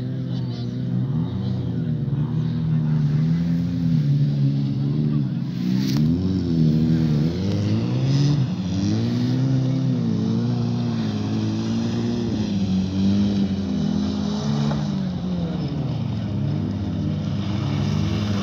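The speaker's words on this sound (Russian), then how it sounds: "машины едут." Cars racing in an autocross, engines revving and surging loudly with rising and falling pitch as several vehicles accelerate nearby and pass, with a voice talking over the steady motor roar.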